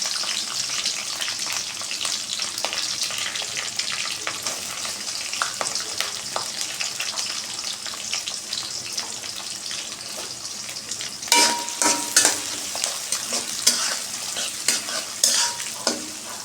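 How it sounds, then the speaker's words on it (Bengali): Chopped onions fry in hot oil for a Bangladeshi mutton curry, giving a steady close sizzle, with louder scraping stir strokes near the end and no voices. "পেঁয়াজটা আমি তেলে ভেজে নেব।"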